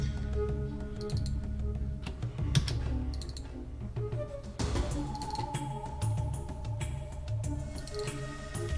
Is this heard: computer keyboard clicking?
yes